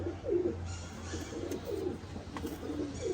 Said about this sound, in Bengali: খুবই সুন্দর একটা পাখের কবুতর দেখেন গাইস